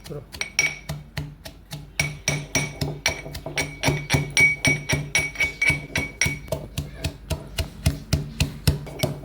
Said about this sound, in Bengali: আমার একটা ছেঁচুনি আছে এটার মধ্যে একটু থেতো করে নেব